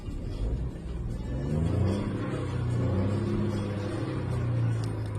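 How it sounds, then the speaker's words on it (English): Three-cylinder engine of a Mahindra XUV 3XO revving inside the cabin, a steady low rumble that climbs and falls in pitch through several rising revs toward about 4000 RPM, continuous and fairly close. "till what RPM does it rev to."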